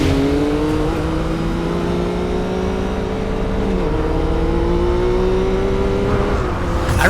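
Motorbike engine revs in the video game Ghostwire Tokyo, a loud sustained drone with pitch sliding up and down through gear changes, close and steady throughout.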